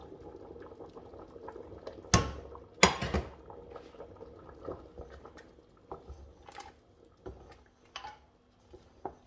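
Blended okra goes into a pot of bubbling okra soup, with a couple of sharp clanks against the pot followed by soft, irregular bubbling and plopping close by.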